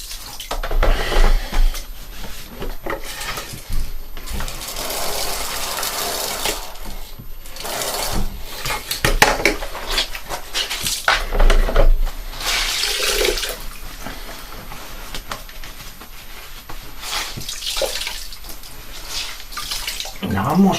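Loud tap water pours steadily and close by as rinse water is caught to save it, with splashing surges and brief pauses, while a voice talks over it.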